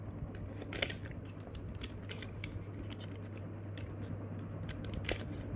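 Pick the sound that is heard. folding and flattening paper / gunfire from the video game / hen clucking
folding and flattening paper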